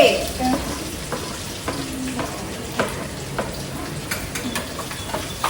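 Chopped onion sizzles and crackles in a hot pan at home, a loud dense frying hiss right up close with stirring scrapes and brief clinks, steady throughout.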